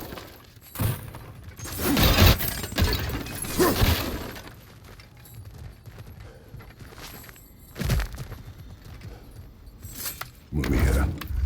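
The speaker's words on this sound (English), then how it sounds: "back to smashing through things for fun and profit" Objects being smashed apart in God of War Ragnarok, with several loud crashing bursts of breaking debris at intervals, between quieter stretches of footsteps and rattling movement.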